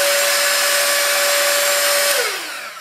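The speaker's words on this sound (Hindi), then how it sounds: "तो ये एक बहुत अच्छा हेयर ड्रायर है, मैं दिखाती हूँ इसकी आवाज" Purplle 5 in 1 hair dryer running at a steady, loud whooshing roar with a constant motor whine, then spinning down and fading near the end; no talking.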